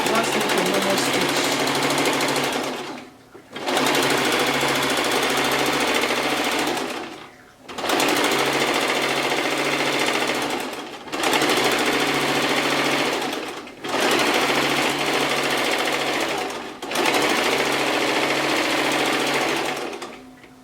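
A sewing machine stitches fabric for a kaftan shirt dress, running loud and steady in long buzzing bursts, about five separated by brief pauses, close to the listener.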